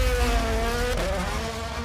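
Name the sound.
Haas Formula 1 car engine on demo run at Goodwood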